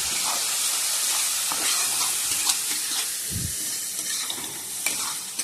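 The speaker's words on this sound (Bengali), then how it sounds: "আর একটু নাড়াচাড়া করে নিই।" Masala and sauce sizzle loudly in a pan, a continuous hissing fry with scattered scraping clicks as the mixture is stirred, no voices over it.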